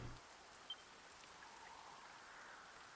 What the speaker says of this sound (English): Now the rain do fall, and soon enough the sun it will fade.